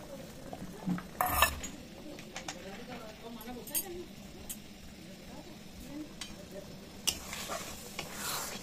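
Chicken fries in a pan as leftover spices mixed with water are added, giving a sizzle with scraping stirs and clinks of a utensil. A bird coos in the background and soft talk runs underneath.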